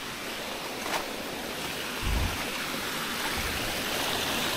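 A small waterfall on a farm lot rushes in a constant broadband wash of water, with a few brief low thumps from wind buffeting the microphone.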